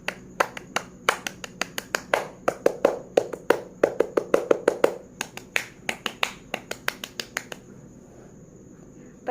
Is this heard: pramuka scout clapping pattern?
yes